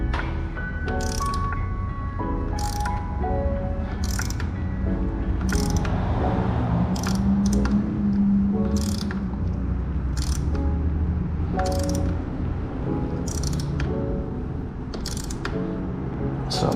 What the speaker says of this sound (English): you wrench and you wrench, and it doesn't come off